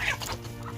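A hen clucks sharply up close, a brief, agitated burst of clucking calls.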